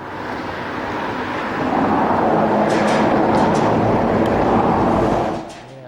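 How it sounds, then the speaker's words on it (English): A train rolls across the lower level of a bridge, a loud, steady rumble that swells and then fades near the end. "if you see the train there on the lower level"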